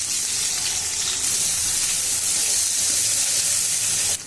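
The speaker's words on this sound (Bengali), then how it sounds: "প্রথমে উস্তে ভেজে নেব" Bitter gourd (ucche) fries in hot oil in a kadai, giving a loud, continuous close-up sizzle and hiss that holds steady throughout.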